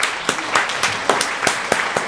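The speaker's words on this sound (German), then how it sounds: "Applaus Ihnen hier" Applause at a German rap interview show, a steady wash of many hands clapping with a few sharper claps standing out, moderately loud and continuous throughout.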